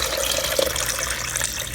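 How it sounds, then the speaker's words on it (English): Water being poured into a blender holding cut pumpkin, a steady splashing, gurgling pour heard close and alone for the full couple of seconds. "I have my pumpkin in the blender and I'm going to add some water."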